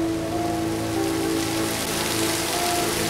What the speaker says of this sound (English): you could change the weather. Yes. Let's see, rainy.